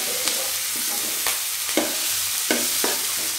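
Onion and mashed boiled potato for poori masala are sautéed in a pan, a continuous close sizzle broken by about five sharp scraping stirs of a spoon at irregular intervals, with no talking.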